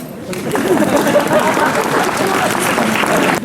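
A crowd at the opening ceremony of Ljubljana's green city year bursts into loud, sustained applause, thick and continuous, with a murmur of voices mixed in.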